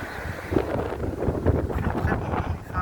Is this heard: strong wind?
yes